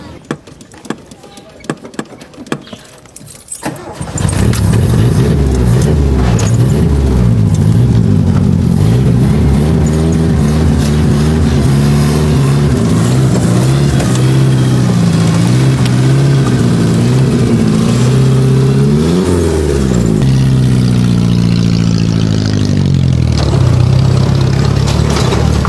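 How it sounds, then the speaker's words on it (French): An old car engine runs loudly and steadily in city traffic in Yaoundé, Cameroon, its pitch rising and falling as it revs, after a few seconds of quieter street noise. "cette voiture ancestrale roule en pleine ville"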